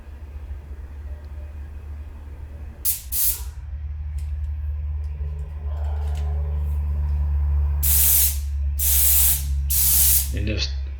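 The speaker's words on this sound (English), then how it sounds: "just putting a couple of coats of clear coat over the decal after I put it on" An aerosol can sprays clear coat over a decal on a 1968-style Sportster motorcycle tank in several short, loud hissing bursts, one early and three close together near the end, over a low steady background hum.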